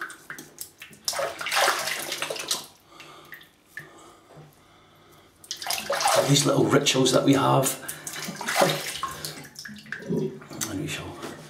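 Tap water runs into a bathroom sink while a shaving brush is rinsed after use with sandalwood shaving cream, the flow rising and falling in bursts with a steadier loud stretch near the end, and someone talks over it.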